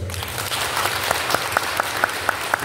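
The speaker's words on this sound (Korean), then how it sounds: "큰 박수를 부탁드립니다" Attendees at a redevelopment briefing meeting give a big round of applause, continuous crowd clapping throughout the short clip with a few sharper claps standing out near the end.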